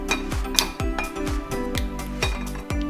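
A small metal seasoning pan clinks and clatters against a stovetop in a home kitchen while Tamil millet pongal is being made, with repeated sharp metallic taps spread across a few seconds and no talk.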